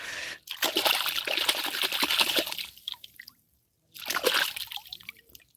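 Freshly caught creatures from the Sundarbans are rinsed in water, giving bursts of close splashing and dripping, a pause of near silence, then another round of sloshing and trickling.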